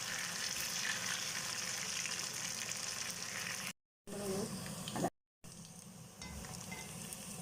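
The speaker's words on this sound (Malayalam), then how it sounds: "നമുക്കിത് വറുത്ത് കോരിയെടുക്കാം." Chicken pieces deep-frying in oil for chilli chicken give a steady, close, loud sizzle with occasional stirring, broken by two brief silent cuts.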